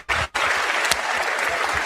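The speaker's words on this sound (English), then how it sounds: "Just applause." A comedy audience bursts into steady, loud applause after a brief pause, the clapping dense and even throughout at close range, with no talk over it.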